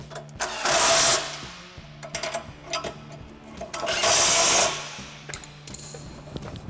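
A nut being tightened with power tools on an Evolution D5 2+2 golf cart accessory install, two long whirring bursts of a driver separated by shorter clicks and rattles, close and loud, with no talk.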